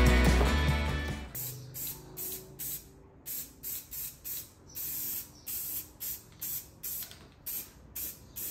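White base coat is sprayed from an aerosol can onto a Volkswagen Beetle spare wheel rim with the valve stem taped off, in a run of short hissing bursts, close and evenly spaced, with no talking.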